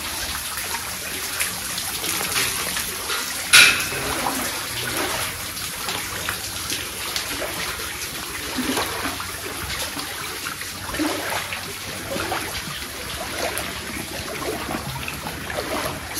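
Water flowing steadily inside a cave temple, a continuous broadband wash that stays fairly even throughout, with one brief sharp knock near the start.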